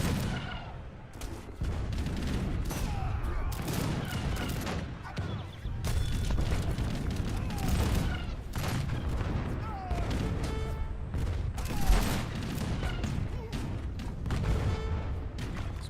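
Massed battle fire between Askari Bowmen and Zamburak camel gunners in Age of Empires 3, a dense continuous clatter of shots and impacts with scattered booms, steady throughout and heard under a commentator's voice.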